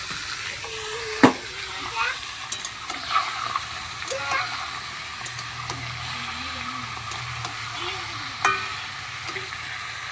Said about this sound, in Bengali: তারপরে এই যে আমি মাংসটা দিয়ে দিচ্ছি।